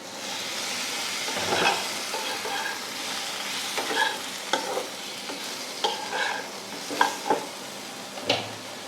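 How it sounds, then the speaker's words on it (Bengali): Potato and eggplant pieces frying with spices in a pan give a constant sizzling hiss, broken by regular scraping stirs of a spoon, close and fairly loud, with no talking. "এগুলোকে একটু নেড়ে নেব দিয়ে এতে আলু বেগুনটা দিয়ে দিচ্ছি"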